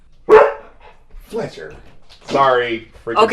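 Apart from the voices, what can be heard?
dog barking into the microphone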